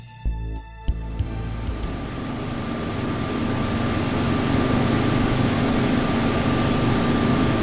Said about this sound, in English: switch it over and press the button to start the diesel